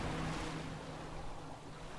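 Waves wash and surge across open water in the video game Sea of Solitude, a steady soft roar of surf with a low rumble, continuous and fairly quiet throughout.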